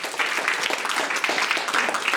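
An audience at a comedy hypnosis stage show applauding, a dense burst of many hands clapping, steady and fairly close throughout.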